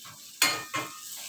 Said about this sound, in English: My tadka is on medium heat.